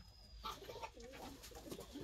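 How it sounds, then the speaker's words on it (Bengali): Wild jalali pigeons in a village farmyard give soft, low cooing calls in short repeated phrases, with faint chirps around them at a fairly quiet level. "এই যে জ্বালালি কবুতর, ওর কাছে গেলে চলে যাবে, কারণ প্রচুর ভয় পায়"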